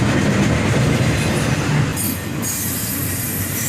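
A long CSX intermodal freight train rolls steadily past up close, its loud wheel rumble continuous, with a brief high screech of squealing wheels partway through before the steady roar resumes.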